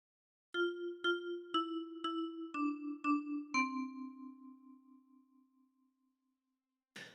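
Seven plucked metal tines of a ten-key kalimba ring in a steady, evenly spaced Twinkle Twinkle Little Star melody, bright and close, the final note sustaining and slowly fading before a short clatter.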